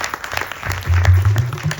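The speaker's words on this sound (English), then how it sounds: "give him a big round of applause," Audience applause at a Ganesh Chaturthi Utsav celebration, a crowd clapping loudly and steadily for a couple of seconds, swelling midway with a dense wash of hands.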